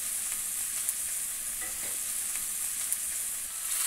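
A strip steak seasoned with salt and pepper sizzles in a pan, an even, unbroken hiss with only a couple of faint clicks, moderately quiet and steady throughout.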